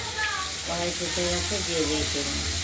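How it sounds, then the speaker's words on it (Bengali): Katla fish pieces coated in salt and turmeric sizzle in hot oil in a wok, a steady frying hiss under a person talking. "নুন হলুদ মাখিয়ে নিয়ে কড়াইতে তেল গরম হয়ে গেছিল আগে আমরা একটু ভাজা করে নেব"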